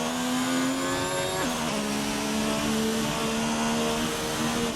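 A race car engine screaming at high revs on a flying lap around Monaco in a racing video game, loud and continuous, with a quick downshift dropping the pitch midway before it climbs again.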